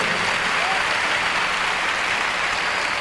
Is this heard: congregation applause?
yes